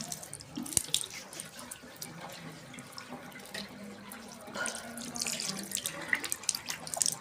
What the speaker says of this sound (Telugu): ఫేస్ వాష్ చేసుకుంటా, మొత్తం టైట్ అయిపోయింది.